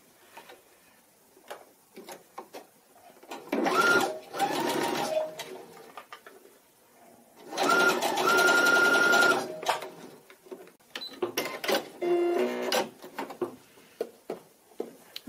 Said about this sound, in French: coudre le premier volant endroit contre endroit à 1 cm